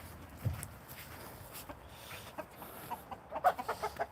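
Chickens cluck inside a straw-bedded coop, with soft scattered clucks that grow busier toward the end, plus faint shuffling movement.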